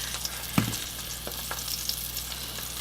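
Alfredo sauce of Parmesan, Asiago and Romano cheese with lemon juice and butter simmering in a pan, a soft steady bubbling sizzle with a faint stir or tap near the start.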